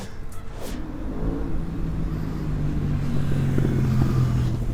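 An Aprilia RS600 motorcycle fitted with an SC Project exhaust revs and builds steadily, a continuous engine note rising in pitch and loudness, heard from a moderate distance over street ambience without talk.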